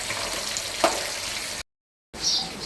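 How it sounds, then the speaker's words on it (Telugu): Fish pieces fry in hot oil with a steady, close sizzle and a brief spatter near the middle. The sound cuts out for half a second of silence, then the frying resumes. "ఇప్పుడు చేపలు ఆయిల్ వేసినాయి కదా చూడండి ఒక్కదానికి ఒకటి అంటకుండా మంచిగా వీడిగా కాలుతాయి"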